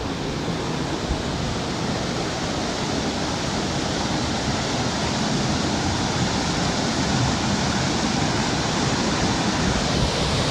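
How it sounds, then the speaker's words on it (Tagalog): A small waterfall at Mother Falls pours with steady flowing water, a dense, constant rush that stays loud and close throughout with no talking. "At may maliit na falls pa."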